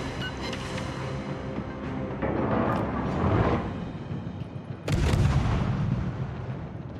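Naval guns firing in a World of Warships battle, dull booms and rumbling blasts rising around the middle and end, with game background noise continuing throughout.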